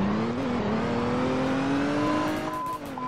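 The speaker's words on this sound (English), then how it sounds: "Alright, so I'm just gonna take a drive." A Dodge ambulance engine in Roblox ERLC drones steadily, its pitch slowly rising as it accelerates, with no talking.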